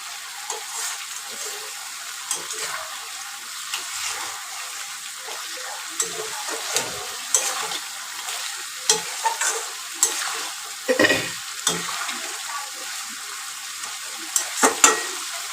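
Chicken frying and being stirred in a pan for an Aminia-style dish, a steady sizzle broken by repeated scraping strokes of the spatula, close and fairly loud, with no talking.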